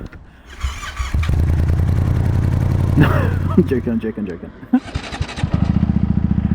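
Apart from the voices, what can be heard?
loud motorcycle exhaust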